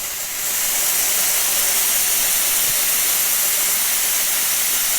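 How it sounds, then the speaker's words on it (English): A Nuova Simonelli Musica espresso machine's steam wand purges with a loud, steady, close-up hiss that starts softly and quickly rises to full pressure, continuing unbroken for several seconds. "now let's show you that steam wand and that excellent steaming power, purging it"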